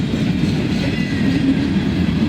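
A freight train rolls past close by, heading into Sharonville's yard, with a steady loud rumble of railcars and faint rhythmic wheel clatter, no voices.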